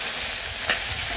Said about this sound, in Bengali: এখন এই মশলাগুলো সব দিয়ে দেবো তরকারির ভিতর